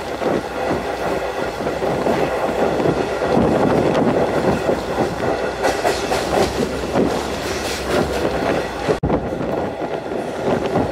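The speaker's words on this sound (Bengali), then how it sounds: "আমরা এখন বুড়িগঙ্গা রেল সেতু অতিক্রম করছি" A stone-carrying freight train crosses the Buriganga rail bridge, heard from on board as a loud, continuous rumble with rhythmic clickety-clack of wheels on the rails and no talking.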